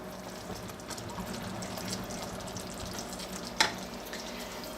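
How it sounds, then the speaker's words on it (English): Peanut brittle sugar mixture cooking in a pot and being stirred, with a low steady bubbling sizzle, faint scraping, and one brief sharp clink partway through. "We do need to stir this frequently though, we can't just leave it alone."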